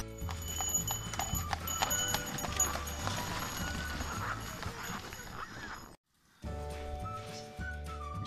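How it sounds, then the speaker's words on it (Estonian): Horses' hooves clip-clop steadily on snowy ground in frigid Zakopane, with a horse neighing amid the rhythmic trotting, which drops out briefly before resuming close by. "siin Zakopanes on räigelt hobuseid."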